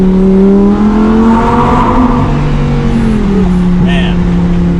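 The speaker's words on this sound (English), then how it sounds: "We'll get just a little bit of the sound of the exhaust." A Lamborghini Huracan EVO revs loudly in an underpass, a steady, sustained exhaust roar that rises and falls slightly in pitch, with the sound echoing off the walls.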